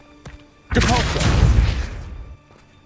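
A Depulso spell cast in Hogwarts Legacy lets out a sudden loud whooshing blast that swells and rumbles for over a second, then cuts off, with no talk over it.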